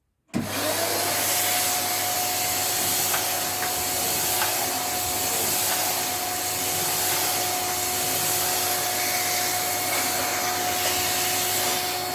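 An Electrolux cylinder vacuum cleaner in spearmint green runs with an attachment tool fitted, giving a loud, steady drone with a constant whine that starts abruptly and holds unchanged throughout, with no talk.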